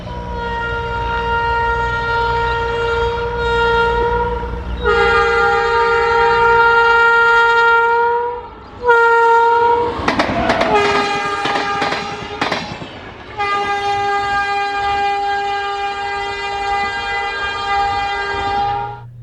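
A high-speed trial train races through a loop-line station on the Bengaluru–Chennai line, blaring long loud horn blasts as the coaches rush past in a burst of roaring clatter, then the horn sounds again as it pulls away.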